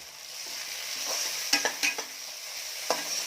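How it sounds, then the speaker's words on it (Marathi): Tomato fries with browned onion in a pan for Kolhapuri mutton, a soft, even sizzle marked by a few sharp spatula clicks and scrapes partway through. "आता यामध्ये मी टाकत आहे टोमॅटो"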